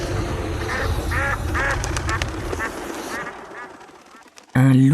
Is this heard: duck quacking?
yes